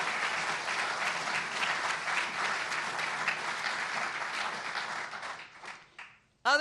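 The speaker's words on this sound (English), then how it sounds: "You can clap for those people." Audience applause during a mayor's State of the City address in Seattle, a steady wash of clapping from a large hall crowd that fades out over the last second before a short burst of sound cuts in.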